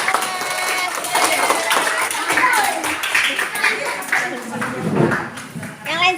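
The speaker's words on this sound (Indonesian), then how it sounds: "Tepuk tangan untuk kita semua." Classroom full of teachers clapping together in a dense, steady burst of applause that fills the room, with voices talking over and around it.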